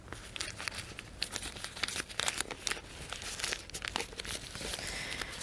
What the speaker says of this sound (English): in the inside of it, 1 layer of the oil paper to wrap it up.